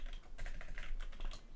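Close, quick clatter of keys on a computer keyboard, an irregular burst of taps with no voices.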